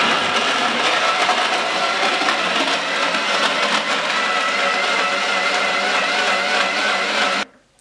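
A countertop blender runs steadily at high speed, whirring loudly through a vegan raw tomato sauce for about seven seconds before switching off.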